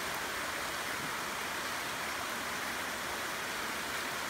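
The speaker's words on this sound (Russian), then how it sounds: "А вот здесь мы проплываем мимо небольшого водопадика." A small, icy-cold waterfall fed by an underground stream pours into a river along a float trip on the Current River, giving a steady, even rushing hiss that stays unchanged throughout.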